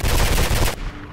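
Automatic gunfire in Mirror's Edge from a weapon with a 30-round magazine, a dense continuous burst lasting most of a second that cuts off abruptly and leaves a faint tail.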